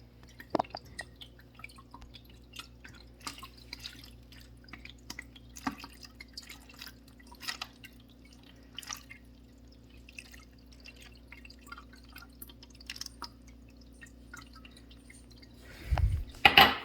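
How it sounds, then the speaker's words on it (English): Water drips steadily from a faucet left running, a scatter of small close taps over a low constant hum, ending in a louder splash and clatter. "Why is the faucet still running?"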